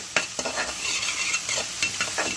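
Aloo methi frying in ghee while a spoon stirs it, with steady close sizzling broken by several sharp scraping stir strokes over a few seconds, no voices.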